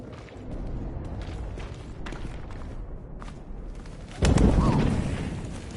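A bird coos in the WWI video game 11-11: Memories Retold, standing out briefly and fairly loud near the end over a steady murky ambient bed of game atmosphere.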